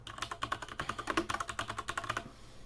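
Rapid typing on a computer keyboard, with quick, close, crisp key clicks in an uneven flurry that stops abruptly near the end, followed by quiet.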